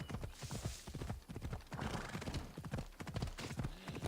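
Horse hooves gallop in a rapid, rhythmic clip-clop in Assassin's Creed Odyssey, steady pounding beats running throughout with a brief whinny-like tone, fairly close and alone without talk.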